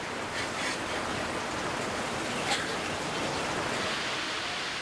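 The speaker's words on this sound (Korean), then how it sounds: "긴 우기를 가진 캄보디아 때문에 시도 때도 없이 폭우가" Heavy monsoon rain pours down steadily in rural Cambodia, a dense, even hiss with no pauses. It drums close and loud on a flimsy slate roof and old wooden house.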